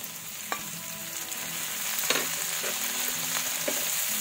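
Chopped tomatoes dropped into a hot pan of oil and plenty of ginger for spicy squid adobo, setting off a steady, close sizzle and frying hiss with occasional stirring scrapes throughout.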